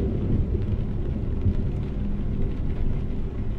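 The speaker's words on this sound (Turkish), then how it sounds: "nasıl bir şimşekti o?" Deep, continuous rumble of thunder during a storm in Euro Truck Simulator 2, driving a heavy truck along a Turkish road map, rolling steadily and fairly loud with no speech over it.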